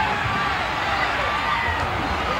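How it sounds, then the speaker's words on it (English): A wrestling arena crowd at a 1979 Houston match roars in a steady, dense wash of noise, with voices mixed into the constant din throughout. "Listen to the noise from that crowd here"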